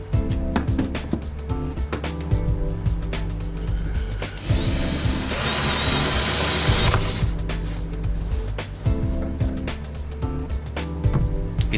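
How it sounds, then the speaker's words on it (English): Drill boring four bolt holes for a plinth, close mechanical rattling and clattering with a sustained grinding burst in the middle, handling knocks before and after, no voices. "mark the holes and then drill the 4 bolt holes"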